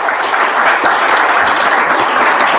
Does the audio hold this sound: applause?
yes